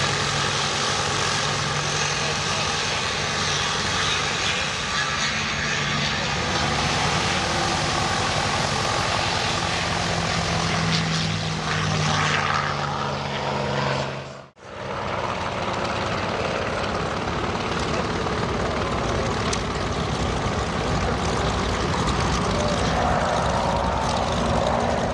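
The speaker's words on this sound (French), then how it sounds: "P-51 Mustang. Ça s'écoute, ça se regarde." A P-51 Mustang propeller plane flies at an air show at La Ferté-Alais, its engine a steady loud roar that drops away briefly before surging back.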